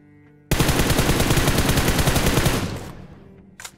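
Rapid automatic gunfire in a battle royale video game bursts in suddenly, a loud close stream of shots lasting about two seconds before trailing off, followed by a brief short sound near the end.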